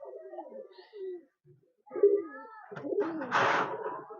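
A long-kept household pigeon gives low, rolling coos in short phrases separated by brief pauses, close and moderately quiet, followed by a louder, noisier burst near the end.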